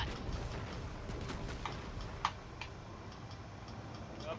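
Planted bomb in a Call of Duty search-and-destroy match ticking as a quiet, steady series of soft clicks under a low background rumble, with one brief louder click midway.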